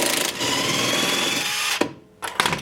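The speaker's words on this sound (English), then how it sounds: "So I have a 14mm on my impact gun right here." A pneumatic impact gun spins a 14mm bolt loose during an air suspension install on a Honda Civic Si, giving a steady close-up rattling whir that cuts out briefly before a short final burst.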